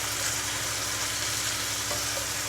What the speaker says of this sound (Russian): смотрите, мы обжариваем